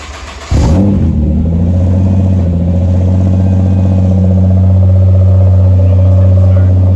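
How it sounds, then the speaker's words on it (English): A Nissan Skyline R32 cold-starts: after a brief crank the engine catches abruptly with a loud rev, then settles into a steady, close, droning high idle with a low rumble. "Are we getting a cold start? If it even starts."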